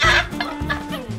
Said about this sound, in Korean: 서럽게 울어, 닭이.